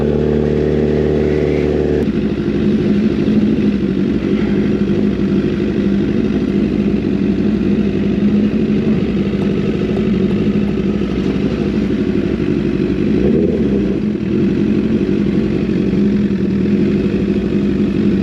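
A Honda CBR 1000 Fireblade sport motorcycle runs on a test ride, its engine giving a loud, steady, buzzing drone close by, with a slight rise in pitch partway through and no talking.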